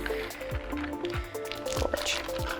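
Liquid poured into a container during a home DNA extraction, with soft drips and small squishy splashes at close range, steady and fairly quiet, with no talk.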